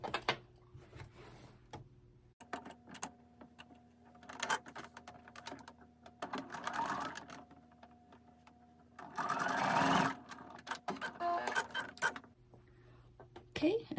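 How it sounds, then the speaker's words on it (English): Home sewing machine stitching a dress seam with right sides of fabric together, quick bursts of rapid needle clatter separated by pauses, with quiet fabric handling and brief clicks between runs. "I'm going to put it through my machine."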